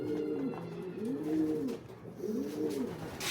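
A racing pigeon returning from a derby coos softly up close, giving three rising-and-falling throaty coos in steady rhythm against faint background noise.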